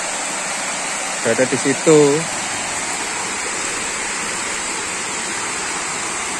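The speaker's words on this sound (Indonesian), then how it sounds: "Oh, ini air terjunnya." Waterfall at Sendang Tlimo in the Kabuh forest near Jombang, a steady, loud broadband roar of falling water that runs unbroken throughout, with a brief spoken phrase near the start.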